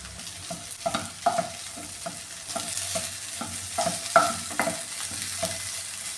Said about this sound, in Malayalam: ഇനി ഇതൊന്ന് നന്നായിട്ടൊന്ന് മൂപ്പിച്ചെടുക്കാം ഇടയ്ക്കിത് ഒന്ന് ഇളക്കി കൊടുക്കാമേ